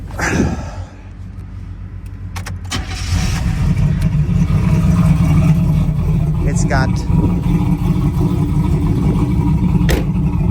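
A 1984 Chevrolet Camaro Z28 engine cranks and catches, then settles into a steady, throaty run with light revving. Someone speaks briefly at the start, close by.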